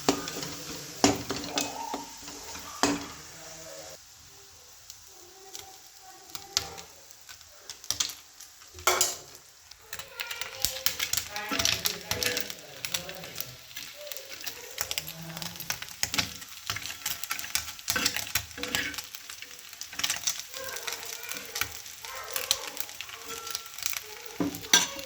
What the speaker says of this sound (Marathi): आपला मसाला झालेला आहे परतून, तेल सुटलेलं आहे